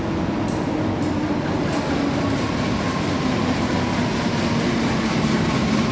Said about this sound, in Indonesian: kereta api Dawu Penataran tujuan Malang tiba di stasiun Sidoarjo di jalur 1